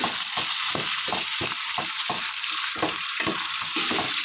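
Chicken for tinola sizzles steadily in a hot pan while a utensil stirs it in regular scraping strokes, close and loud, with no talking.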